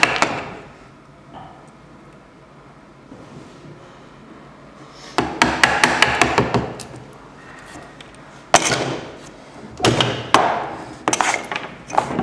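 A chisel is struck with a mallet to cut a dovetail halving joint in wood, a scrape or two early on, then bursts of sharp, rapid close knocks, each run lasting a second or so, with short pauses between.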